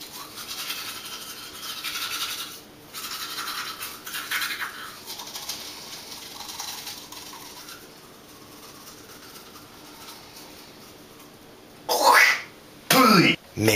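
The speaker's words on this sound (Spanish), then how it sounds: "Me cepillo los dientes sobre el lavabo." Teeth being brushed over a bathroom sink, a soft rhythmic scrubbing in bursts, followed near the end by a few louder, abrupt noises.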